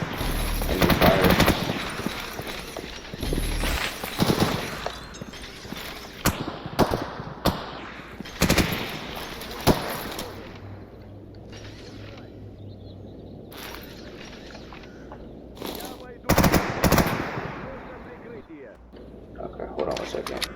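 A PKP light machine gun fires in a military shooter video game in bursts and single cracks spread across the stretch, loud and close, with a player talking between volleys.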